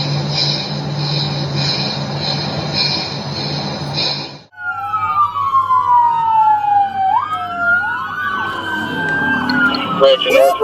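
A police siren wails and sweeps up and down in pitch, loud and close, following a stretch of dense rumbling noise, with other siren tones layered near the end.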